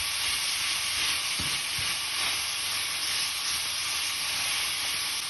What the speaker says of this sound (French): Après avoir rissolé tout ça,